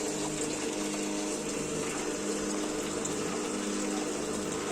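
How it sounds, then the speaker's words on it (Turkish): Milk cream separator machine running as it splits cream from milk: a steady whirring, splashing hum of flowing liquid, even and continuous, close by, with no talking. "Süt makinenin sütlerden kaymağı ayırıyor."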